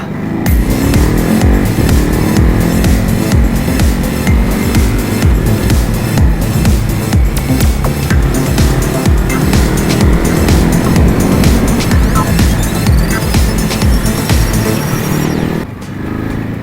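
A Ducati Hypermotard 950 SP sport motorcycle, restricted for A2 licence, revs hard and continuously, rising and falling in pitch with gear changes, loud and close throughout before easing off at the end.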